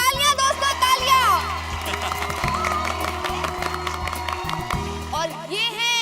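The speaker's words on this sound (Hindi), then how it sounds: "तालियां दोस्तों, तालियां" Studio audience applause and cheering at a party scene in the comedy sitcom Taarak Mehta Ka Ooltah Chashmah, sustained clapping and crowd noise mixed under background music and a speaking voice.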